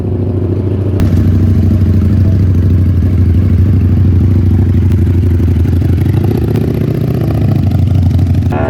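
Ducati motorcycle engine running steadily on a race track, a loud, continuous low mechanical drone with faint clatter throughout, no talking.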